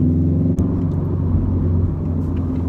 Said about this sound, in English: going on a little drive for a WRX review, which I drive a 2012 WRX hatchback, of course